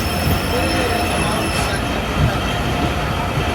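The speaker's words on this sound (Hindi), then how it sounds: "हमारी ट्रेन यहाँ से रवाना हो रही है" The Sir Syed Express pulls away from a station with a steady, loud metallic squeal of train wheels on rails and a constant rumbling roar throughout, close by and without speech.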